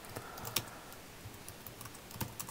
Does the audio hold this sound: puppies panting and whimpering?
no